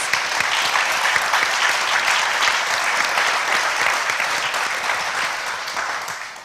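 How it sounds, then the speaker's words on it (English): A large audience at a national computer science education week kickoff event applauds steadily and loudly throughout, a dense sustained wash of clapping with no talk over it. "Let's give them a round of applause"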